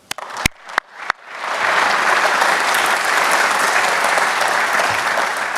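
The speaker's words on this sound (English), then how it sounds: "We can applaud them." Audience applause at a Reagan Presidential Foundation economic forum starts with a few scattered claps, then grows into a full, sustained round of clapping from the crowd.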